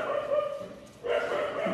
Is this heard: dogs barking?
yes